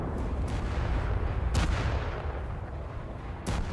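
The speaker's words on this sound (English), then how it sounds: "They are firing their shells very, very quickly" Naval guns of the cruiser Nuremberg firing in War Thunder, sharp distant reports at irregular intervals over a steady low rumble of engine and sea noise.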